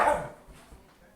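A dog gives one sharp bark up close, followed by a fading tail and faint movement. It comes from dogs play-fighting in a living room, one of them a golden retriever.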